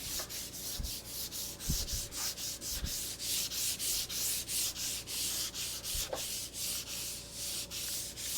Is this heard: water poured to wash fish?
no